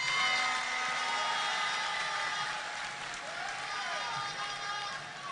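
An audience at a Ghanaian political gathering claps and cheers in a sustained, fairly distant roar, with tonal sounds and faint voices running underneath.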